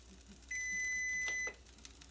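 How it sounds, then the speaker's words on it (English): A kitchen timer goes off in a home kitchen during pizza making, one steady electronic beep tone held for about a second, fairly clear over quiet room noise, with no talk. "That's a timer for a different project."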